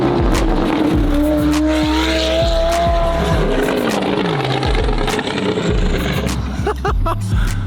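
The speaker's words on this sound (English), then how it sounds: "The race cars really are a hell of a lot of fun." A race car squeals its tires hard through a corner, long skidding wails sliding up and down over a loud engine, with brief bursts of talk mixed in near the end.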